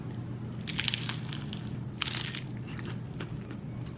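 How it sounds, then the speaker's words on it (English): A loud, crisp crunch of biting into food, followed by a second bite and some chewing, close up with a low hum underneath. "you guys heard that crunch"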